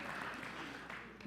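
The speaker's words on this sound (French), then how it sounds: "On applaudit le psy, s'il vous plaît" An audience in a church-style gathering gives brief applause, a short even wash of clapping lasting about a second.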